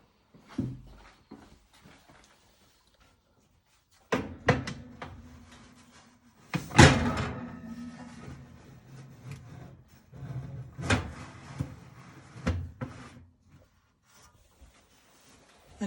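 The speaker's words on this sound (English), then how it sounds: "And you close the door and you want to keep an eye on them." An oven door closing after egg custards are placed inside: a few close knocks and clunks, with one sharp loud bang near the middle and softer handling sounds around it, no talk.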